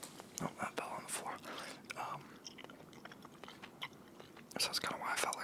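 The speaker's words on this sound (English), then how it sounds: "Let me know how you guys are liking the gum chewing." Gum is chewed close to the microphone in an ASMR setting, with wet, sticky smacks and clicks coming in irregular bursts, and soft whispering between them.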